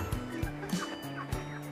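Soft, low clucking from 30-day-old broiler chickens, a few brief calls over a quiet murmur of a flock nearby.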